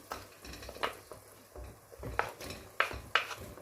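Chopped potatoes and celery tumble into a pot for a winter soup, making several sharp clinks and knocks against the metal, with soft stirring scrapes in between. No one speaks.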